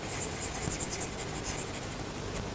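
Chalk or marker writing on a board during a mathematics lecture, a continuous scratchy scraping with small taps, close and steady and heard without talk.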